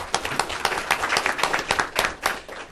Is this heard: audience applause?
yes